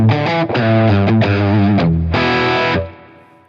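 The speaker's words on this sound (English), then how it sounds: "we're playing a Fender Strat humbucker" Fender Strat with a humbucker, played through a Helix patch with reverb, several distorted chords sustaining one after another and a final chord ringing out and fading.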